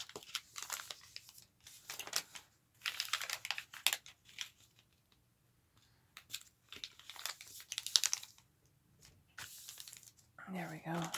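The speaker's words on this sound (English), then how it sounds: "I'll fold all these pieces and then rip it to the length that we need." Paper from a coin envelope being folded and torn by hand, crinkling rustles and sharp tearing bursts coming in several separate spurts, close and fairly quiet, with pauses of near silence between them.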